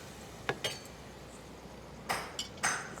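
Metal clinks and clatters in a kitchen as a lid goes onto a cooking pot of salted water for a home-style snakehead fish curry, a few sharp knocks spread over a few seconds, close and fairly quiet, with no talk.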